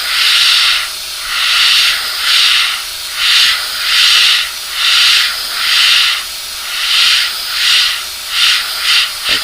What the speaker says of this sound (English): I've been warming this airbrush up for a little while to make sure I was able to do this